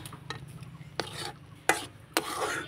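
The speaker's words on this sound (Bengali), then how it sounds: "আমের যেটা রসটা আছে সেটা আমি শুকিয়ে নেব নাড়াচাড়া করতে করতে।" Mango pulp stirred in a pan to dry out its juice, a low simmering hiss broken by a few sharp scrapes of a spoon against the pan, close and alone without speech.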